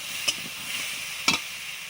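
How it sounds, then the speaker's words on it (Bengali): Water added to a pan of sour snakehead fish curry with mango and mustard paste, a steady close sizzling hiss with two brief sharp bursts. "জল দিয়ে দেবো।"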